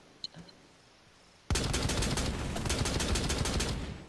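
Rainbow Six Siege gunfire erupts after a quiet moment with a faint click, a loud, dense burst of rapid automatic shots that runs on without letup.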